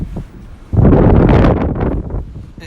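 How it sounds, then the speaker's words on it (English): Strong wind outdoors in Edinburgh buffets the microphone, a loud roaring gust surging in after a quiet start and staying heavy before easing slightly toward the end. "It is very windy, wow."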